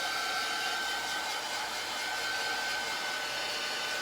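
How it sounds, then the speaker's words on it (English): Hair dryer blowing steadily on wet paint on a thin Dollar Tree board, a continuous loud whooshing hiss with a faint whine, alone and unbroken. "I'm just keeping my dryer moving"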